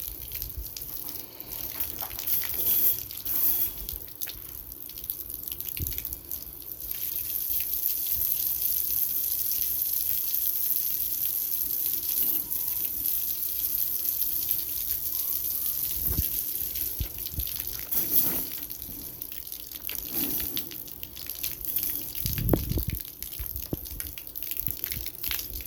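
Tap water runs steadily for about 25 seconds while a tegu's mess is washed up, a continuous close gush into a sink with occasional louder splashes and drips.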